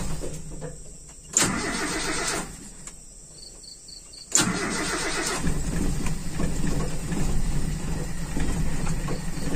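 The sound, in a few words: Toyota Kijang carburetor engine starting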